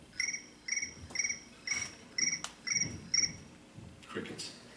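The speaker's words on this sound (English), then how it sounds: "Crickets." Crickets chirp in a steady series of about seven short, paired pulses, bright and clear over a quiet background, with faint low rustling underneath.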